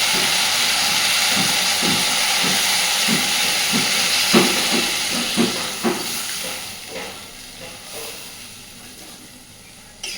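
Water poured into a hot pan of fried taro and potato curry gives a loud, steady hiss of steam that slowly fades, broken by a few bubbling pops near the end.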